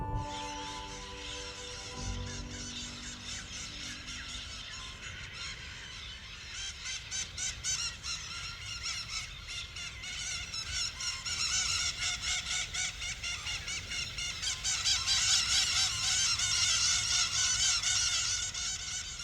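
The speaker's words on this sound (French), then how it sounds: "ils reviennent et sont aujourd'hui plus de 2000 à tourner en piaillant dispersés dans les cratères du" More than two thousand parakeets screech continuously while circling among the craters of the Masaya volcano, a dense, distant chorus of shrill calls that swells louder toward the end, with no talk.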